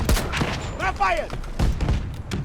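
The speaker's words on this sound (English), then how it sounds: "It's just the tap fire in this gun is pretty wild, isn't it?" A gun is tap-fired in the video game Battlefield 2042. Sharp, quick shots pop in short bursts while someone talks excitedly over them.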